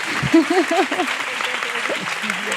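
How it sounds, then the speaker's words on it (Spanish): Audience applause at the close of a panel on women and employment, a steady wash of clapping with a voice talking over it. "vamos a dar un pedazo de aplauso a estas 4 mujeres que han estado aquí"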